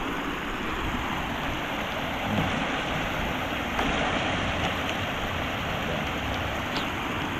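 Water rushing through a rice field channel during heavy rain, a steady, dense, broadband roar close to the microphone with no clear breaks.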